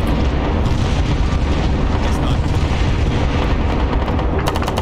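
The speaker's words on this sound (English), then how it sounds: "how much artillery is there on this map?" Artillery fire and heavy rumbling explosions on a combined-arms battlefield in ARMA's SOG Prairie Fire, a loud, continuous barrage with crackling bursts near the end and no clear talking.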